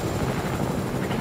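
Helicopter in the video game Fortnite, a steady thumping rotor drone heard close and fairly loud with no voices over it.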